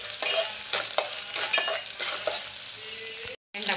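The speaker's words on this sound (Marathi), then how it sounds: "व्यवस्थित परतून घेऊया कांद्यामध्ये" Ginger garlic paste sizzling with onions in a pan while being stirred, a steady close fry with repeated scraping strokes of the spoon, then a short silent gap.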